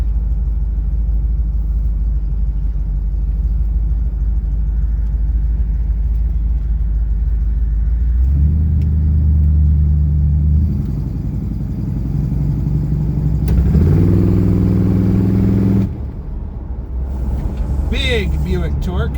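A 1965 Buick Riviera's big engine revs up as the car accelerates, a loud, steady low rumble climbing in pitch through two upward sweeps before easing off, close and continuous throughout.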